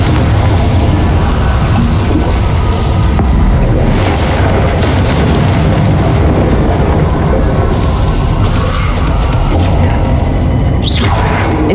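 The Confringo spell in Hogwarts Legacy gives a loud, continuous roar of blasts and rumbling booms that stays dense and heavy throughout, with a few brighter bursts on top.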